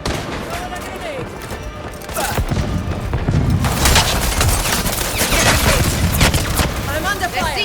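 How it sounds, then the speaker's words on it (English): Heavy gunfire and booming explosions from the Concord 2 shooter, sustained and loud, with volleys swelling midway and game chatter over the din. "I'm under Their fire."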